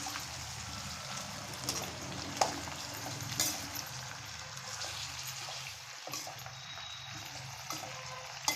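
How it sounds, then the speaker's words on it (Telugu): Cabbage stirred in a pan for cabbage curry, soft continuous sizzle and scraping with a few sharp knocks of the spoon against the pan, fairly faint. "అది మొత్తం క్యాబేజ్ వేసేసుకున్న తర్వాత ఒకసారి కలుపుకోవాలి."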